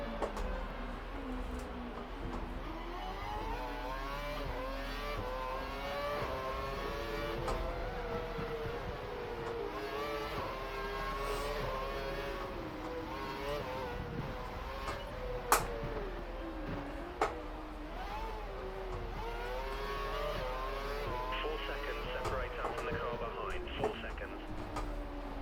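Formula 1 race cars in the F1 2012 video game, driving a Caterham around Monaco, with a steady engine whine that rises and falls through the gears, continuous and fairly loud for the whole stretch.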